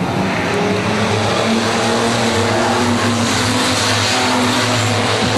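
Street stock race cars roar around the track in a main event, a dense, loud and continuous wash of engine noise with no let-up.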